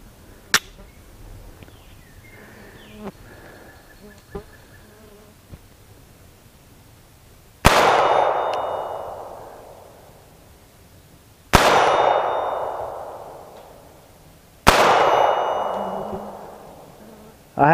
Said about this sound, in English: we're just going to shoot it 6+1, so just 6 rounds, and let's see if I can feed some Remington UMC 115 grain ammo